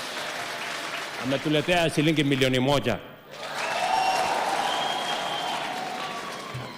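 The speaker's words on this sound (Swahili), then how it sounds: "pigeni makofi" Applause from an audience at a public gathering swells in after a man's spoken announcement, a dense, steady clatter that holds for several seconds and stays fairly loud.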